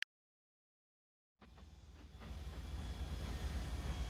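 A train in the railway video game Mashinky rolls in after a moment of silence, a steady rumbling hiss that builds and grows louder as it approaches.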